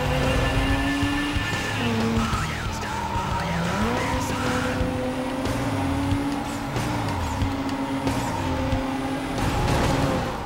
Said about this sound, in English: Oh shit, he fucking rolled it.